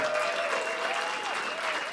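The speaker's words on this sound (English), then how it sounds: "Let's have a round of applause for that" Dense audience applause fills an awards ceremony hall, a steady wash of many hands clapping at even loudness throughout, with a faint sustained tone gliding underneath.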